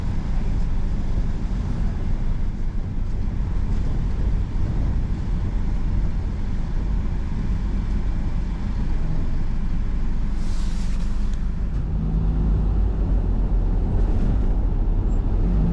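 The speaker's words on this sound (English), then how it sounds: "This is the 809 bus service." Steady low engine drone and road rumble inside the 809 Rapsons Highland bus travelling through remote country from Ullapool to Lochinver, constant and fairly loud with brief hissy bursts midway.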